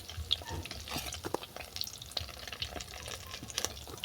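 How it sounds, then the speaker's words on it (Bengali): Flattened-rice (chira) pakoras frying in hot oil, a steady close sizzle with scattered crackles and pops running throughout, no talking. "এই পকোড়াগুলো বাদামি করে ভাজা হয়ে গেছে"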